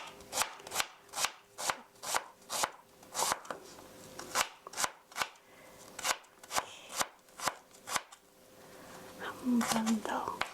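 Knife chopping vegetables finely on a board for a tomato pancake, a quick steady run of sharp close taps that pauses briefly and resumes, ending with a soft low voice.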